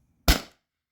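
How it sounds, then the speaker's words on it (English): A Beeman BP50 air pistol, muzzle-loaded with a 4.6 gram Devastator pellet, fires one sharp, loud shot. The short crack fades within a quarter second, with silence before and after. "reload a muzzle load a Devastator in there, and then shoot it again"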